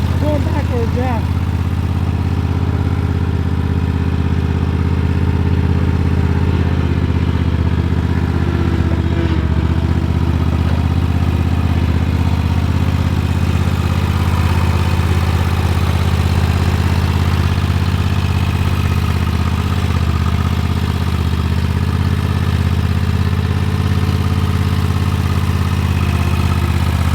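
A zero turn lawn mower engine running steadily at a constant drone throughout, loud and close with a low rumble, with faint voices at times under the engine noise.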